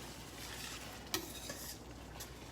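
Full-fat coconut milk is stirred into a sauce in a pan, a faint, soft bubbling sizzle with one sharp clink of a utensil against the pan and a light scrape.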